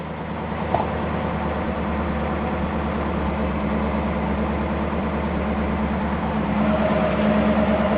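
A 1965 Mercury car engine idling after a cold start, a steady low rumble that holds even and close for the whole stretch with no talking.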